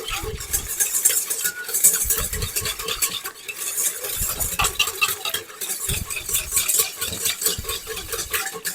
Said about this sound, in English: you got to mix it together so that it activates nicely. So I like to do this until it's fairly dissolved